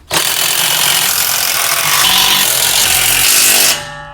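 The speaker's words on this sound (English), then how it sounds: "Next, we're going to tighten up the carriage bolts." A power tool tightens carriage bolts on a Malone MicroSport overland tent trailer, giving a loud, close, continuous buzzing whir for about three and a half seconds before it stops abruptly.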